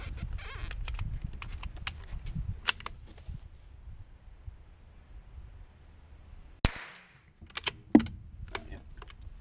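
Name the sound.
gunshots from a small arms firearm test-firing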